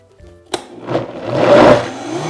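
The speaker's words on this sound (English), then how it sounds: "push down the dates into the blender a few times" A countertop blender grinds dates into a thick date paste, starting with a sharp click and then a strained, rising motor whir that labors through the sticky mixture, close and alone.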